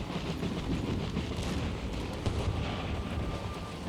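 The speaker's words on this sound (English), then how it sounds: "my artillery is still hitting" Artillery fire in the strategy game Empire: Total War, a dense continuous rumble of distant cannon booms and battle noise, heavy and unbroken, with no speech.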